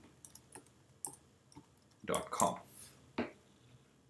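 Keystrokes on a computer keyboard tap out in short irregular bursts, with a quick cluster of clicks in the middle, close and fairly quiet with no talking.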